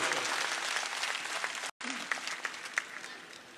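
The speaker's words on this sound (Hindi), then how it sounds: "जोरदार ताली से आशुतोष का स्वागत करो" A crowd at a political rally claps loudly to welcome the candidate Ashutosh, a dense and sustained burst of applause with a brief cut partway through before the clapping resumes.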